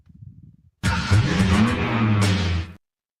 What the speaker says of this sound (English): we're back on that damn motor car revving up again